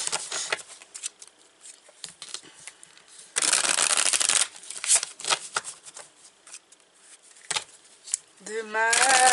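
Lenormand cards are shuffled by hand in bursts of quick riffling and soft slides, including one dense loud riffle, interspersed with pauses and ending with a brief voice.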